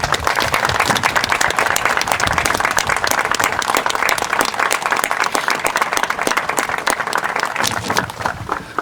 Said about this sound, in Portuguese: Vamos aplaudir a Deus pela vida dos noivos bem forte, por favor.